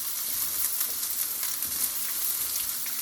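Garlic sizzles and fries steadily in a hot pan for a bacalhau cream sauce, a dense, even crackle held at close range with no talk.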